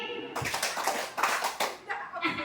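A group plays a clapping game, clapping together in quick bursts to called patterns, pausing between rounds, with voices and a little laughter mixed in.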